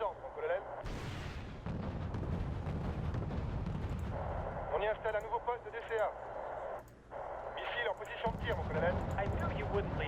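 Heavy artillery fire in the Cold War strategy game Wargame: European Escalation, during a raid on French nuclear missile silos. Dense, rumbling barrages and booms roll almost continuously under voices talking throughout.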